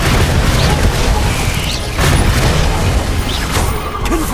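A heavy Descendo spell slam from Hogwarts Legacy booms loud and close, with rumbling crashes and a sharp impact about halfway through over continuous low battle noise.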